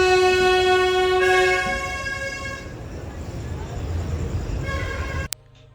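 The 11040 Maharashtra Express train in Maharashtra sounds a long, loud two-tone horn, then rolls on with a rumbling run before a shorter horn blast near the end.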